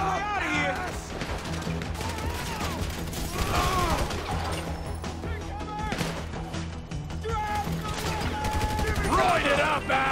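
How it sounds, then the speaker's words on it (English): Sustained gunfire during a shootout in the video game GTA 5, with bursts of rapid shots and crashing impacts over continuous loud game noise, while voices shout throughout. "So I guess we shoot our way out of here!"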